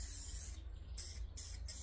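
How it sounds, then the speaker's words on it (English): A spray paint can hisses in short bursts inside an abandoned building in Zante, Greece: several quick sprays separated by brief gaps, faint and close, over a low background rumble, with no talking. "the cans would probably be empty in about 12 seconds worth of spray"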